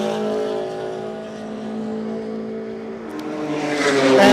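BMW M3 race cars, the two latest models, run in the X class at a Queensland race meeting, their engines droning steadily with harmonic tones before rising louder and higher near the end as they accelerate past.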